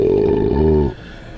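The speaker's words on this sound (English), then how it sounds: "here are those belch sounds once again" A deep, drawn-out belch with a rough, growling tone, loud and close, lasting under a second before cutting off.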